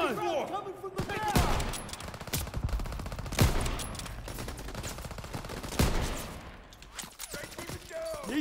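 Machine gun fire crackles in bursts through a Call of Duty: WW2 battle, with a second-floor MG position, loud and dense, punctuated by two sharper, heavier blasts, while shouted voices and other combat noise carry throughout.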